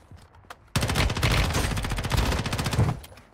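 SMG fire in Warzone Mobile: a sustained burst of rapid automatic shots lasting a couple of seconds, loud and close, with a few faint shots before and after.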